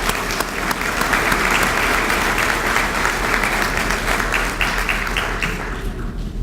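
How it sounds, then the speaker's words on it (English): A banquet room audience at an annual dinner applauds the table sponsors, sustained dense clapping with sharp individual claps standing out, steady throughout and thinning at the very end. "Please join me in giving them a round of applause."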